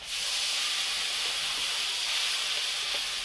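Water goes into a hot pan of prawns and spices and sets off a loud, close, steady hiss of steam that holds evenly throughout.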